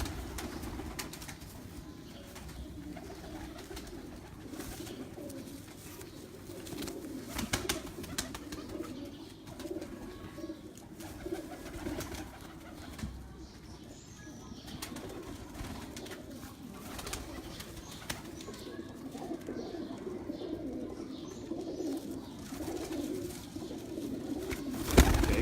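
Pigeons coo on a rooftop where the birds are kept, a soft, continuous murmur of cooing that runs the whole time over low outdoor background noise.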